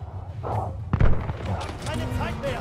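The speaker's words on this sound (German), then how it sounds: "Ich sehe nicht, woher die Schüsse kommen, Bro." Gunfire in the Call of Duty: Vanguard campaign on PS5, thumping shots and booms in a quick flurry, mixed with a background clatter of action and voices talking over it.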